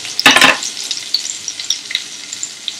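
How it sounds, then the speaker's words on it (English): Cumin seeds, curry leaves and finely chopped green chili hit hot oil with a loud burst of spluttering, then settle into a steady close sizzle dotted with sharp little pops. "Now I'm just going to fry some half a teaspoon of cumin seeds"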